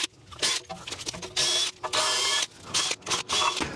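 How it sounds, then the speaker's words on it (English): A power wire wheel scrubs the rear brake caliper bracket of a 2015 Lexus LX 570, loud close whirring and grinding bursts starting and stopping as the brush bites into the metal channels. "I'm going to give it a quick brush here with the wire wheel"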